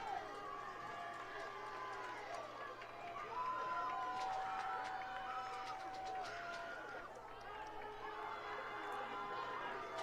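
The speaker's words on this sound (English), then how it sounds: "A sparse but vocal crowd here at Cameron Stadium" A sparse but vocal football crowd at Cameron Stadium during a high school game, heard as distant scattered cheering and shouts, with whistle-like tones over a steady low hum.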